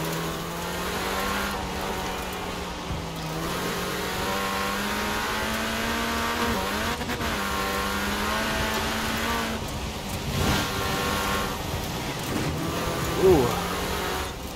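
A Mini Countryman rally car in Forza Horizon 4 drives hard through corners, its engine droning and revving with shifting pitch, brief dips on lifts and surges on throttle, with a voice talking over it throughout.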